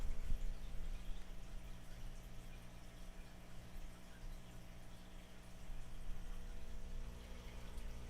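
Water draining out of a home fish tank during a water change: a faint, steady trickling and gurgling under a low hum, continuous with no clear breaks.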